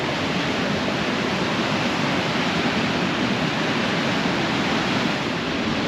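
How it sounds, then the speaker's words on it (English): A strong-current river rushes past after muddy water crossings, a dense, steady roar of flowing water that stays loud and unbroken from start to finish, with no voices. "There's the river."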